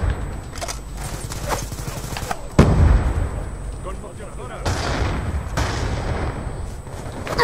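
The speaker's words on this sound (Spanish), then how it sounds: "Disparo efectuado." Gunfire from the video game Black Ops 2: scattered sharp shots and a heavier blast near the middle, mixed with game sound effects and a player talking over it.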